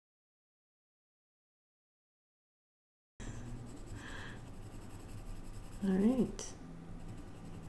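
A pencil scrapes over built-up layers of pencil on paper, a faint close scratching that starts after a stretch of silence, with a quiet voice speaking briefly toward the end.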